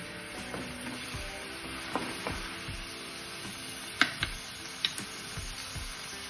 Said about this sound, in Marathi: छान गुलाबी होईपर्यंत छान परतून घ्यायचं आहे